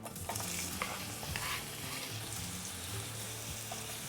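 Onions sizzle steadily in olive oil on a preheated Ninja Foodi Pro XL grill and griddle, a close, continuous crackle and hiss with faint scraping of stirring.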